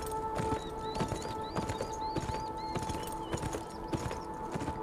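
Horse hooves clip-clopping in the video game Beyond: Two Souls, a steady rhythmic trot of close, crisp hoofbeats with faint game bird calls and a soft tonal hum behind them.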